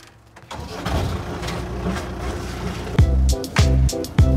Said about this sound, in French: le moteur tourne à bas régime